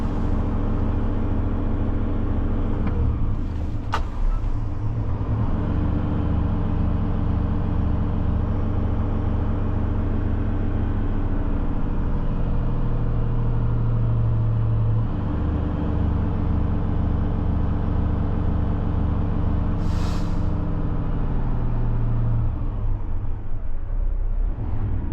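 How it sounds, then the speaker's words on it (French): A dump truck's tipper body is eased down slowly, the diesel engine and hydraulics droning steadily with a low pulsing rumble and a few clanks, nearby and fairly even in level. "On redescend la benne tranquillement."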